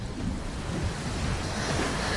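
Steady rush of ocean waves washing in the Fortnite video game, a continuous broadband surf wash with a windy edge, fairly close and even in level throughout, with no talking over it.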